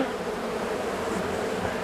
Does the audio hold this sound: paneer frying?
no